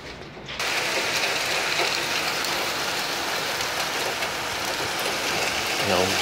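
Heavy August hail battering a house, a loud, unbroken hissing roar of countless impacts that starts abruptly after a brief quieter moment and stays intense throughout.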